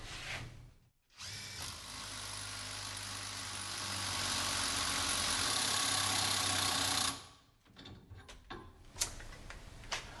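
A small DeWalt 1/4-inch cordless impact gun hammers steadily for several seconds, trying to break loose a differential on a K5 Blazer, then stops, followed by a few short bursts and clanks of tool handling.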